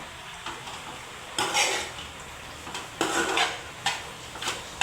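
A spoon mashes and stirs a thick veg cutlet mixture in a bowl, with scraping strokes and occasional clinks against the rim, close and moderately loud, with no talking.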